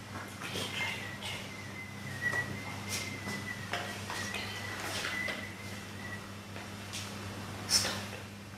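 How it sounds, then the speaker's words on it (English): A faint, thin whistled tone drifts in and out over a low steady hum, with scattered soft knocks and distant murmuring voices, during a live paranormal investigation in Italy. "we've all just heard whistling. There it is."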